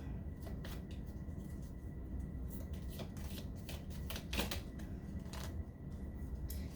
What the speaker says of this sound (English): These are a little hard to shuffle.